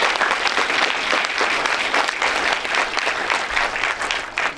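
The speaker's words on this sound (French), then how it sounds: "on peut les applaudir bien fort dans la salle." Audience in a hall at a small-town awards ceremony applauds steadily and loudly, a dense wash of many hands clapping without pause, with no talk over it.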